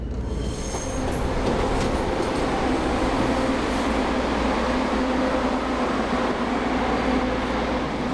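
Passenger train rolling along a railway line, a constant loud rumble of wheels and carriage noise with faint rhythmic clicks and a thin high squeal, heard alone throughout.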